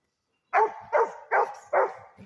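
A dog barks four times in quick, evenly spaced succession, loud and close, after a brief silence.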